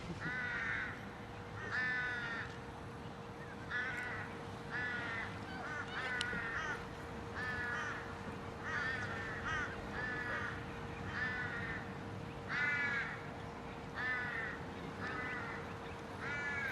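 Crows cawing repeatedly in a regular series of harsh calls beside a golf green at a women's professional tournament in Australia, heard against a quiet outdoor background with a faint steady hum.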